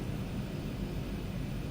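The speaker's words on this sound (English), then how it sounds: "But the sounds are very nice with this aircraft." A steady, close engine drone with a broad rushing roar comes from a DHC-6 Twin Otter turboprop in the flight simulator MSFS 2020, holding an even level throughout the short stretch.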